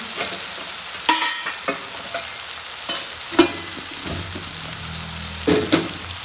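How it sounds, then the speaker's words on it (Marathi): Tomatoes sauté in a pan with a little turmeric, a moderate sizzle punctuated by several sharp clinks and scrapes of a spoon against the pan, heard up close with no one speaking. "आता त्यात घालायचं टोमॅटो परतायचे त्यात थोडीशी हळद घालायची"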